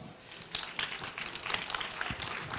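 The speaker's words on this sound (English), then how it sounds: "A warm applause." Applause from a lightning-talk audience at the 38C3 hacker congress, a fairly quiet, dense wash of many hands clapping that holds steady through the whole stretch.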